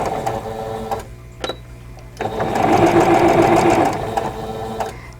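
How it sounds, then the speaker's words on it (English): A sewing machine stitches a vintage Rosebud quilt block, with a few short stop-start bursts followed by a longer, steady run of close, rapid needle clatter that then slows and stops. "I'm going to go ahead and start sewing on this."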